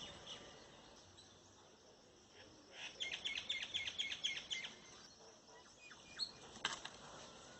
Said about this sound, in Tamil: வீட்டை சுற்றி குயில் கூட்டம் அதிகமாகி போச்சு